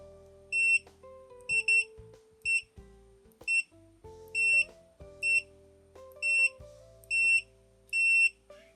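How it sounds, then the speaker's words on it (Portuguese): Minipa SM-3305 clamp meter in continuity mode beeps repeatedly as the probes touch, short high-pitched electronic tones in an irregular series of about ten bursts, some doubled, clear and close with low handling noise between them. "o bip dele tem um som bom, não é um som muito alto, mas é um som bem audível"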